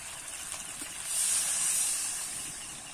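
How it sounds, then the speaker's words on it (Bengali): Water is poured into a simmering jackfruit and potato curry in a pan, producing a steady steamy hiss that swells louder midway and then eases off, close and continuous with no talk. "এবারে আমি জল দিয়ে দেবো।"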